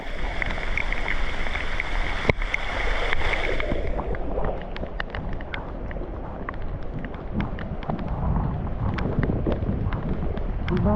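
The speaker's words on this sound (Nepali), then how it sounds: "पानी परिरहेछ गाइस" Rain falls steadily in a constant broadband wash with scattered sharp drip taps, while wind rumbles and buffets against the microphone early on.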